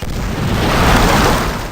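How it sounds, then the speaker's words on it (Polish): A heavy explosion in the combat video game Medal of Honor Warfighter, a loud, broad rumbling blast that swells and then sustains and slowly tails off, with no speech over it. "Wybuchło coś tutaj."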